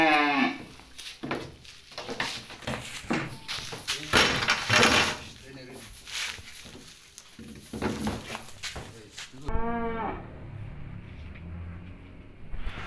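Cattle moo on a farm in Kuningan, West Java, among a group of eight large cows: one long low moo near the start and another toward the end, with people talking at length in between.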